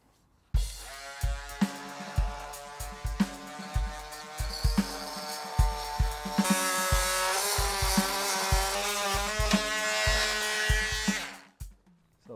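A power tool cuts away a damaged through-hull fitting on a sailboat, starting with short stuttering bursts of a whining motor, then running steadily and loudly before winding down to silence.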